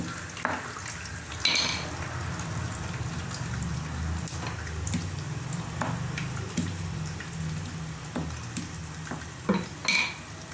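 Okra and garlic frying in a pan, with a steady soft sizzle and occasional scrapes and clinks of a spoon stirring against the pan.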